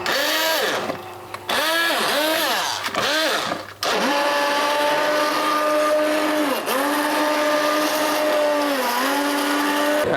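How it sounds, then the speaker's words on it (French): Loud blender motor whirring through Caldo Verde soup: a few short pulses with swooping pitch, then one long steady run that dips in pitch as the blades bog down. "on va mixer ça"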